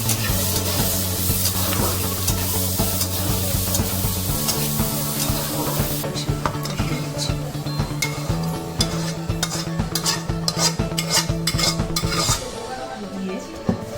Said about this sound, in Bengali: পেঁয়াজটা কিন্তু লাল করব না, সামান্য একটু বাটারের সাথে ভেজে নেব